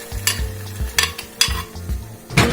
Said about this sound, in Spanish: vamos a verter jitomate, nuestro caldillo de chile chipotle